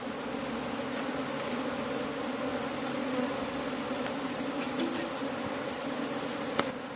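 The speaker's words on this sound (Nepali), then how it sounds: "यसरी मौरी आइरहेछन्" Honeybees stream in and out of a hive outdoors, a steady, close buzzing drone that holds evenly throughout with no talking.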